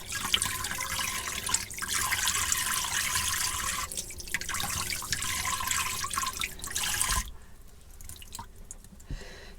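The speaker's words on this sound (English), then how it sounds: "Sink's getting full now as well." Water runs steadily into a sink while clip-in hair extensions are washed, a continuous rushing stream with drips that stops abruptly near the end, leaving quiet room tone.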